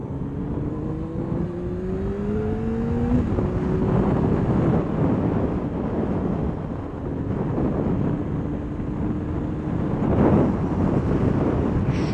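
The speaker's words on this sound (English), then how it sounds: "it's windy" Continuous gusty wind roaring against the microphone, with a faint engine drone rising and falling underneath.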